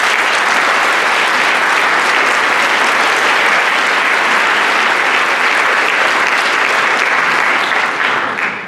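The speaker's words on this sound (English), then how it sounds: "Let's give her a big round of applause." Audience applause at a National Honor Society induction ceremony: a dense, loud, steady wash of many hands clapping that holds evenly for the whole stretch and tapers slightly at the very end.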